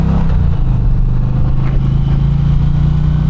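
An Indian Challenger motorcycle is ridden on the road, its engine giving a loud, steady low drone mixed with constant wind rush.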